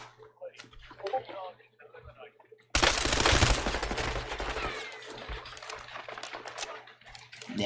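Rapid gunfire bursts erupt in a Warzone match, a dense loud volley of shots near the player after a quieter stretch of scattered sounds, with someone talking at intervals.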